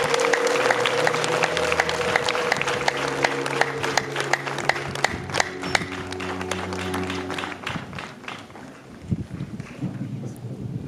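Loud, sustained applause from a large crowd with high ululation rising over it, welcoming a new bishop at a children's Mass on a pilgrimage to Kibeho, Rwanda; the clapping thins out near the end.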